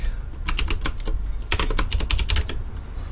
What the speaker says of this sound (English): My keyboard typing gets ridiculous.